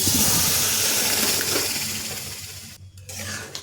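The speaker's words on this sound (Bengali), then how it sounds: "এখন কড়াই গরম করে আমের পাল্পটা দিয়ে দিচ্ছি।" Mango pulp for mango bharta hits a hot wok with a steady broad hiss that fades gradually, then drops out briefly before a quieter sizzle returns near the end.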